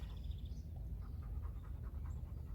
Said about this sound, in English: the panting is the dogs